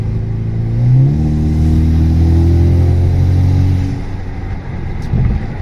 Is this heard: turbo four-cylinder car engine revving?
yes